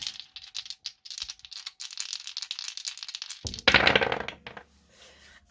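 Dice roll for a divination reading: a quick run of light clicks and rattles, then a louder clatter as they tumble and settle on a hard surface, close and clear.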